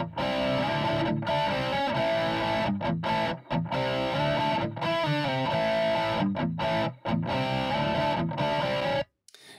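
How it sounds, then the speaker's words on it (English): Distorted electric guitar run through a Nolly cabinet simulation impulse response, chugging riffs and sustained chords with short abrupt stops, played alone, moderately quiet, with a slightly phasey, distant tone. "So here's the Nolly cab simulation."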